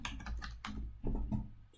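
Fingers type on a computer keyboard entering a password, a quick run of soft, close clicking keystrokes in an irregular rhythm.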